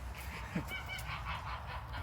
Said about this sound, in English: This is the Sebastopol goose.